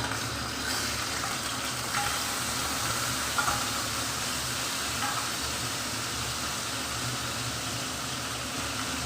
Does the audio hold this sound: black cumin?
yes